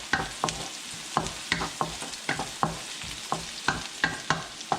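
Pork hock sizzles in a frying pan while a utensil stirs it, scraping in regular, close strokes about twice a second over a steady background hiss.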